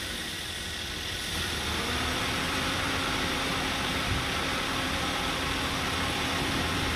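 Radiator fan motor on a Toyota Avanza running during a test, a steady whirring hum with broadband air rush that rises slightly after the first second and then holds constant.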